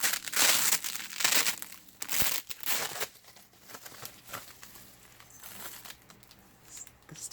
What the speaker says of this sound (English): The sticky bubble wrap.